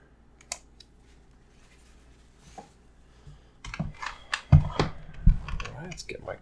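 A computer keyboard is typed on in short irregular bursts of clicks that come in after a few quiet seconds, close and fairly crisp, with a few faint clicks before that.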